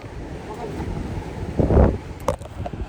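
Dawn wind on Gwanaksan mountain during a sunrise hike blusters across the microphone in low rumbling gusts, with one stronger buffet midway, while people talk nearby.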